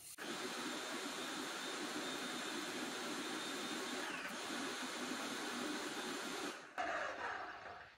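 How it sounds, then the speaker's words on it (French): An airless paint sprayer runs steadily while water circulates through it for rinsing, a loud continuous motor-and-hiss drone that holds for most of the stretch before briefly dropping and resuming. "je vais faire circuler de l'eau dans la machine, beaucoup d'eau"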